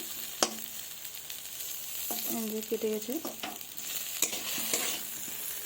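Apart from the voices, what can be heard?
potatoes frying in a pan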